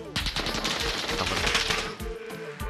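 Enemy gunfire in the video game Call of Duty Warzone: a dense, loud automatic burst of rapid shots running for over two seconds, then a few trailing rounds.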